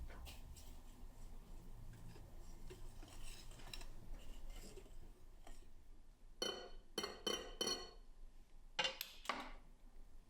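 Salt stirred into ingredients in a bowl while making cinnamon rolls, with bursts of clinking utensil-on-bowl taps in clustered strokes near the end, after a quieter stretch of soft kitchen handling.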